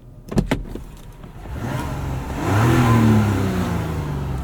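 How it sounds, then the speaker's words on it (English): A 2024 Mazda CX-90 turbo 3.3-litre inline-six engine revs up with a throaty, rising growl after a couple of brief clicks, then holds a steady drone nearby. "There's that inline-six, has a nice throaty sound to it."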